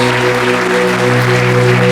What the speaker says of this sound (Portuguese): E vamos aplaudir ao Senhor bem forte.